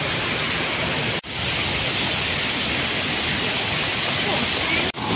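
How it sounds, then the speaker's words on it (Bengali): Water rushes and roars down the slope near the Panchalingeshwar temple, a loud, dense, steady wash of noise that fills the whole scene, cut twice by brief dropouts. "এখান থেকে প্রচুর জল আসছে।"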